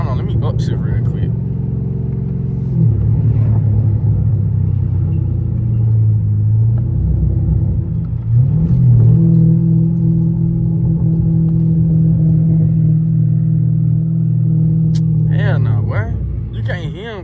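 A car engine drones low from inside the cabin, its pitch rising under load, dropping sharply at each gear change and climbing again, a close, loud rumble running through with a voice talking at the start and end.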